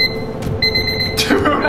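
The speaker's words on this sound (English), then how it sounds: "turn that alarm off" An alarm in a video game beeps with repeated high electronic tones, fairly loud, while people talk over it.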